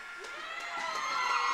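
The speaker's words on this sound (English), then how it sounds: "a roar from the crowd as their senior trying to make a play" A crowd at a women's club ice hockey game swells into a rising, cheering roar with shouts and whoops, building steadily over a few seconds.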